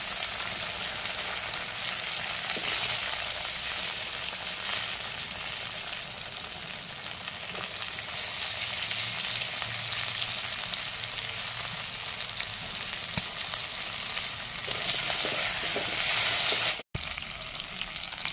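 Cut elephant apple frying in oil with cumin powder, a steady close hiss and crackle of sizzling that runs on without pause, ending in a brief break.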